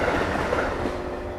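A train rumbling past nearby, a dense, steady low roar with faint rhythmic clatter, loud and unbroken over a brief moment.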